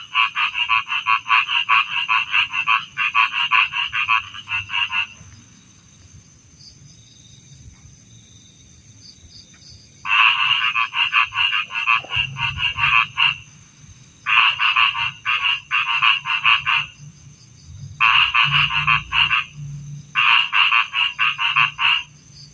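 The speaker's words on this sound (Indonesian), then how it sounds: "Kita digangguin katak lagi." Frogs croaking at night in a rural Indonesian setting, dense pulsing choruses in repeated bursts of several seconds with short quiet gaps, loud and close, no voices.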